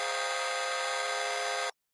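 Square-wave synth run through a bitcrusher, distortion and auto-pan plays a dense, buzzy sustained tone for under two seconds, then stops abruptly.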